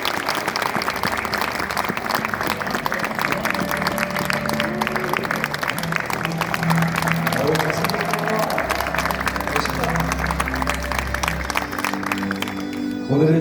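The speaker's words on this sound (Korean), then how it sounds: "박수로 모시겠습니다" A church congregation applauds to welcome a group of pastors to the stage, sustained dense clapping that continues for over ten seconds, with voices and low background sound mixed in beneath.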